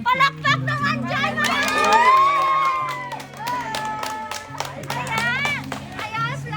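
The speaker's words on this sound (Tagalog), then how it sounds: "Palakpak naman dyan!" A gathering of adults and children at an outdoor SUV trunk surprise breaks into excited shouting, whooping cheers and scattered clapping, loud and close, with voices calling out throughout.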